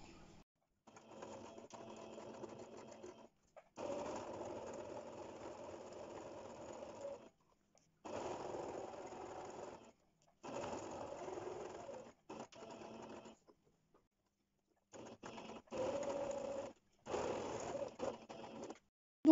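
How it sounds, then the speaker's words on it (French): A sewing machine stitches fabric for a curved-edge basket, running in steady bursts of several seconds separated by short silent pauses, close and moderately quiet with no talking. "Donc là, on passe à la couture."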